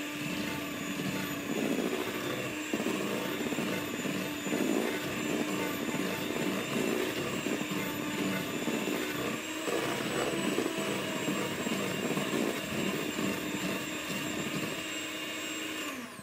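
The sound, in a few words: whisking vanilla into batter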